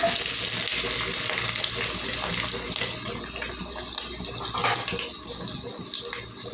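Thinly sliced onions and green chillies hit hot oil and fry with a loud, dense hiss and crackle that slowly eases, with faint stirring scrapes in the pan.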